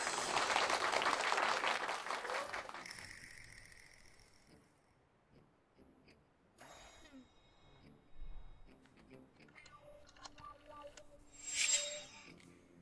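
A burst of loud clapping from a group in a dramatized corporate scene, strong for the first two seconds or so and then dying away into quiet, sparse clicks and faint background sounds.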